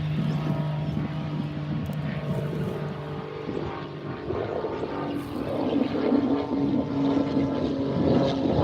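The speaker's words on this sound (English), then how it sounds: "it's just a FTA aircraft doing a training go around" An FTA training aircraft going around at Adelaide Airport, a distant, steady engine drone and propeller hum that swells slightly toward the end, with no voices.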